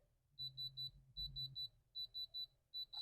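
A diamond tester pen gives three bursts of short, high electronic beeps in quick groups, repeating steadily with brief pauses between each set, close and clear over a faint low hum.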